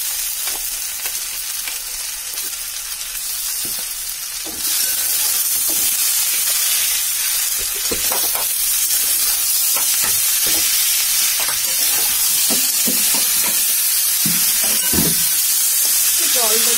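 Mashed poppy seed paste frying and being stirred into fried potatoes in a pan, a steady loud sizzle with scraping stir strokes and clinks throughout, louder after the first few seconds.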